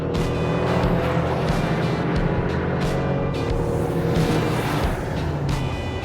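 A Toyota 4Runner and a Land Cruiser, one an older V8 and one a newer 4-cylinder turbo, accelerate hard side by side in a drag race, with a steady, loud engine roar running the whole way through.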